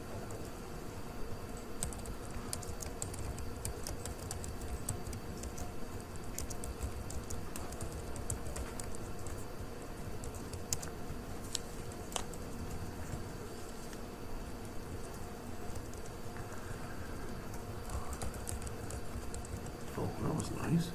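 Fast, continuous typing on a computer keyboard during web development coding, a dense patter of clicking keys held at a steady level with faint voice traces underneath.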